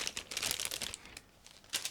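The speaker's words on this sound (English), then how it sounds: "open this resealable plastic bag" A resealable plastic bag holding ICM 1/144 Kriegfischkutter model kit parts is opened nearby, giving a burst of crisp crinkling, a brief lull, then another sharp crackle.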